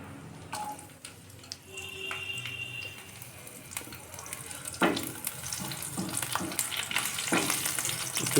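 Bay leaves and a slit green chili frying in mustard oil for a fish curry, a continuous close sizzle with occasional clinks and stirring knocks, no talking.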